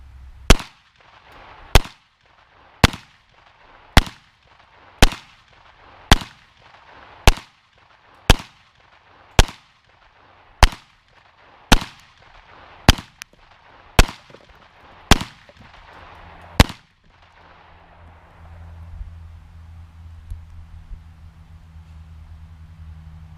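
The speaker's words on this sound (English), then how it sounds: "For the 9, I'll use 115 grain, and for the 40, it's 165 grain. And we'll shoot from 15 yards." Fourteen 9mm and .40 S&W pistol shots with Winchester 115- and 165-grain full metal jacket rounds fired at targets from 15 yards, sharp loud cracks at a steady pace about one per second, then a low outdoor rumble.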